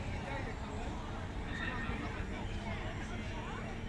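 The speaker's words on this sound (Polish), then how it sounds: "cztery konie." Horses neighing at a miniature park in Inwałd, Poland, with a whinny rising over steady crowd chatter and people talking nearby, set against constant outdoor background noise.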